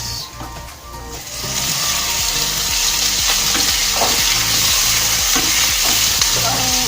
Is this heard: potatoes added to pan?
yes